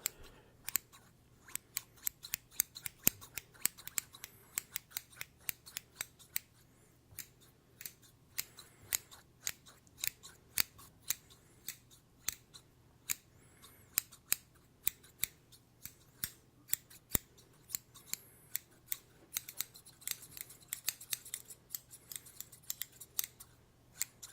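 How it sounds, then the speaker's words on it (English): A pair of scissors is handled and snipped in a quiet room, giving sharp, crisp clicks and cuts close up. They come in irregular bursts, sometimes quick runs, with soft handling noise between them and no talk. "And then we also have one more pair of scissors here."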